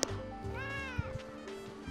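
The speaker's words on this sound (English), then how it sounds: "Kong, did you hear Gubby meow?" A cat meows once in a drawn-out, rising and falling call, heard close over a steady background hum.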